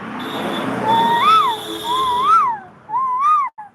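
A child's high, rising-and-falling whistled call repeated three times, imitating a koel, over a steady background hum.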